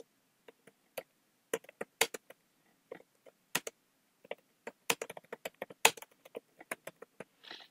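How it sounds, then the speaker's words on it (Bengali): Keys on a computer keyboard are tapped while Bangla text is entered in MS Office: quiet, irregular clicks arrive singly and in short bursts against near silence. "দেন আমরা এখন এখানে বাংলা টাইপ করব।"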